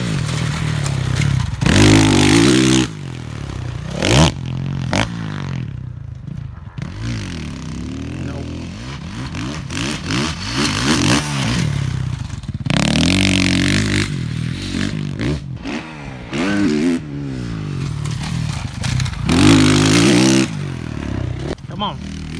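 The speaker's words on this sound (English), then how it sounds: "he's gotta rev that out a little bit more into those whoops" A supercross dirt bike revs and blips on a training track, with bursts of throttle rising and falling, clattering over bumps and whoops in repeated loud passes, with speech mixed in.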